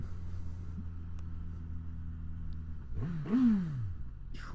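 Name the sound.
Suzuki GSX-S1000GX motorcycle engine revving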